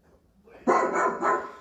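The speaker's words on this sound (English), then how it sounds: "what does a dog sound like?" A single dog bark played back by a voice assistant speaker, short and fairly close after a quiet moment, heard alone without talk.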